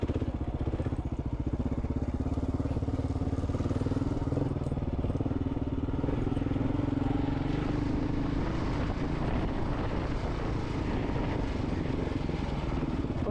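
A Kawasaki KLR motorcycle rides slowly over rough terrain, its engine a steady, close, loud drone with a low rumble throughout and no talking.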